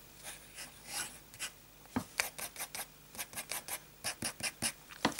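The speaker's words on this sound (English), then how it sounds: "A bit of fine writing. Copier paper." Fountain pen nib scratching across copier paper with Rohrer & Klingner ink, a series of close, quiet strokes: a few soft scribbles first, then a steady run of short, evenly paced scratchy bursts.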